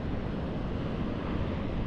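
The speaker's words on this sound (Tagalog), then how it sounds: "at malalaki pa rin ang alon" A steady wash of ocean surf roars continuously, mixed with wind rumble, with no distinct breaks between waves.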